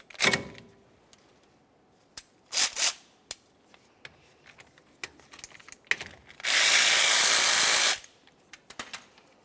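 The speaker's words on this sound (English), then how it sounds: "we can continue by removing the banjo bolt, which is the bolt that holds the flex hose to the caliper" A wrench works the brake hose banjo bolt loose from the caliper of a 2001-2005 Ford Explorer Sport Trac, giving scattered metallic clicks and short ratcheting bursts, then one loud sustained rasp of about a second and a half, with no talk.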